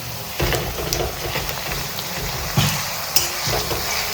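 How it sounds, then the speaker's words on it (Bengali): Garlic paste frying in a pan of browned onions on low gas flame for a Bengali chicken curry, a steady sizzle with stirring scrapes and a few sharper clinks, close and alone. "এবার রসুন বাটা দিয়ে দেবো।"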